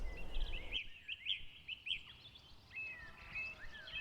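Small birds, sparrows among them, chirp and trill in hedgerows along a canal towpath in May nesting season, a string of bright repeated calls at moderate distance over a quiet background.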